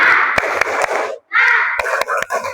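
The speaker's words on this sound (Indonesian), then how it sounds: "Tepuk semangat." Schoolchildren in a classroom perform a rhythmic clapping chant, several sharp hand claps punctuating their loud group voices over a couple of seconds.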